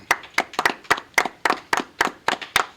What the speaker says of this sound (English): All right, clap it up, everybody.